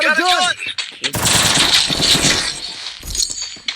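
A UMP submachine gun fires in a video game in a dense, loud burst of rapid shots lasting a couple of seconds, with a short electronic sound effect before it and a brief shot after.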